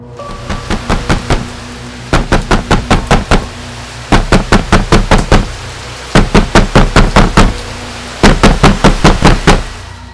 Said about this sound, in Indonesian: Bukan ketukan biasa seperti layaknya orang, tapi gedoran keras yang bikin kaget.